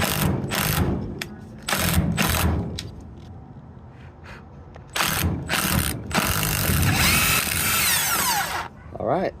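A hand ratchet works back and forth on rusted bolts of a 1956 car under restoration, giving repeated bursts of clicking in loud, close strokes separated by short pauses.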